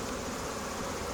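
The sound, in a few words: honey bees buzzing at the hive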